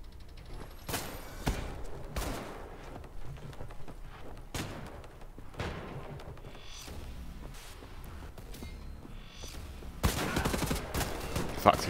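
Shotgun blasts and other gunfire in a video game fight against Nazis, with loud irregular booming shots and an intense burst of fire near the end over a low background rumble.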